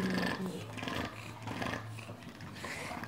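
A big dog growls and roars in low, rough bursts close up while a one-year-old baby boy plays with it, and people talk over the sound.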